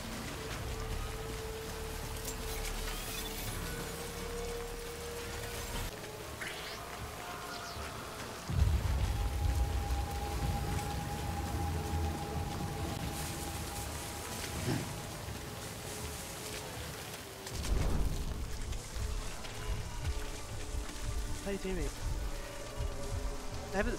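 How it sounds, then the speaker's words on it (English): Continuous rain patters on surfaces with a soft hiss in the video game Death Stranding, joined by tonal hums and two heavier bursts of rumble, with no talking. "Oh, it's raining now."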